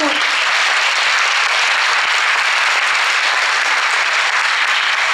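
Dense, steady applause from a large crowd fills the room at a Miss Côte d'Or election gala, loud and unbroken throughout with no voices over it.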